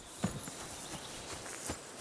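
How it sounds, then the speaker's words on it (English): Horses walking in the medieval game Kingdom Come: Deliverance 2, faint scattered hoof clops at an uneven walking pace over soft ambient noise, rather distant. "Aren't half a lot of horses here. And more in the stables."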